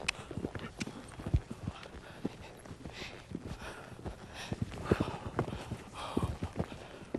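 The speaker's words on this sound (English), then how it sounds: "you can see how unbalanced he is in the canter" A ridden horse cantering in an arena, its hooves thudding on the ground in a steady rolling rhythm, with faint voices now and then.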